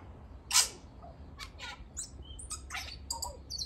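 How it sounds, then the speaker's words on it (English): A tui sings in a recorded outdoor clip, a varied series of sharp whistles, chirps, clicks and squeaky notes spread across a few seconds, moderately near with a quiet background. "That's the tui song."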